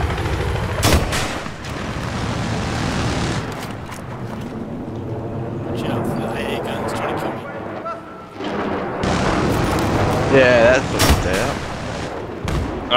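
Rapid bursts of anti-aircraft gunfire in a vehicle combat video game, loud repeated booming shots over engine and battle noise, with someone talking throughout.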